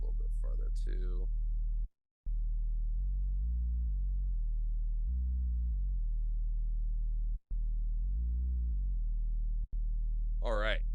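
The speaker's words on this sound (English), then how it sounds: "this sine wave is not really like a perfect sine wave anymore." Synthesized sine tone with added harmonics from Ableton Operator, a low steady hum stepping between pitches with brief gaps, bracketed by short warbling chirps at the start and end.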